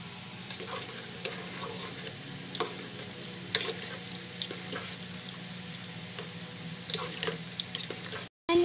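Cornbeef macaroni spaghetti stirred in a pan, producing a steady sizzle with periodic scraping clicks of the spoon, close and even, cut off by a brief silence near the end.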